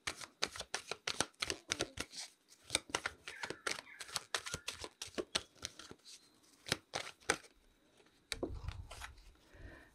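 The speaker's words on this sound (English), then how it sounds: "let's pull some cards for the outcome" Tarot cards are shuffled in quick, crisp riffles and flicks, repeated many times up close at low volume, followed by a soft rustle as cards are pulled.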